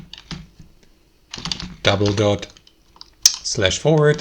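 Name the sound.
typing on a computer keyboard in a browser URL bar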